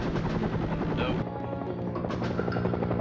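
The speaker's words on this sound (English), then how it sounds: "The helicopter raced 20 yards off the ground to avoid enemy radar." Helicopter racing low, about 20 yards off the flat desert ground, with a loud, steady rotor thump and engine roar filling the space close by and unbroken throughout.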